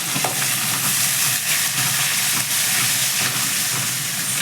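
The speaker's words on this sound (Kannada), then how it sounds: "ಹಸಿಮೆಣ್ಸಿನ್ಕಾಯಿ ಮತ್ತು ಕರಿಬೇವು 3 ಒಟ್ಟಿಗೆ ಹಾಕೋತೀನಿ. ಸ್ವಲ್ಪ ಫ್ರೈ ಮಾಡ್ಕೋಬೇಕು." Green chillies, onion and curry leaves hit hot oil in a pan for mutton masala, giving a steady, loud sizzling hiss with faint scraping of a spoon, close up and with no talk.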